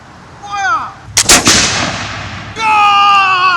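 Brown Bess flintlock muskets go off in a loud volley, a cluster of sharp near cracks followed by a rolling decay, with voices and cheering on either side.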